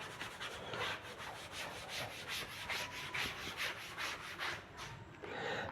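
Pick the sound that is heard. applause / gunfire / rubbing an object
rubbing an object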